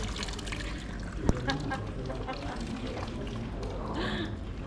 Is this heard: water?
yes